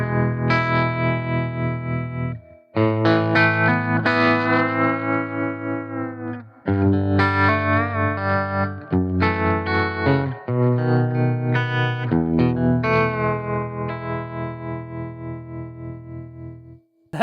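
Electric guitar through a Fat Jimmy Jimmy Jr amp with its own vibrato and reverb, loud phrases of wavering, pulsing chords and notes separated by brief pauses, played without talking.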